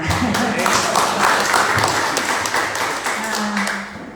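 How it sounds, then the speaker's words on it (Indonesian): An audience at a seminar-style presentation claps for the operator, with quick scattered applause and taps under a voice speaking over it. "Aplaus buat operator kita"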